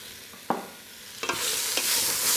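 Beef browns in a pot for Taiwanese braised beef noodle soup, a steady loud sizzle broken by a few stirring scrapes, with no talking.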